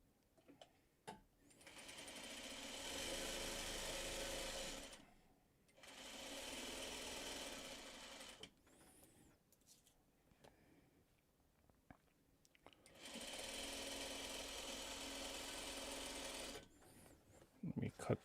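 A sewing machine stitches a long pinned fabric seam in two long, steady bursts of rapid whirring, separated by a quieter pause with scattered handling noises, and a few short clicks and bumps at the end.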